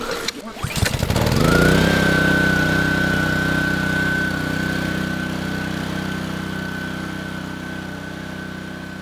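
A small engine with its choke open starts after a brief rough burst, then settles into a steady, fairly loud running drone with a sustained whine that holds for several seconds.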